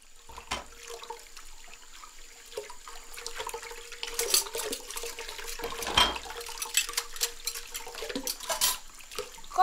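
Tap water runs steadily into a kitchen sink during dishwashing, a close, continuous splashing rush that swells slightly toward the end, with faint clatters of dishes.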